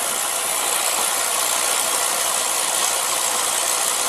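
An old oil-fired boiler burner running through its pre-ignition cycle, giving a steady, loud, broadband roar with a faint rattle, unchanging throughout and with no voices.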